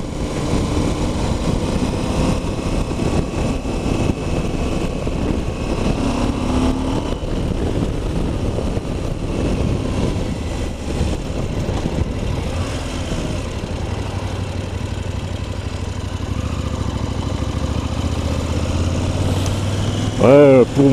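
A KTM 790 Adventure motorcycle's engine runs steadily through the whole stretch, a continuous mid-level drone with some revving, out on a countryside ride, while a person talks over it at times.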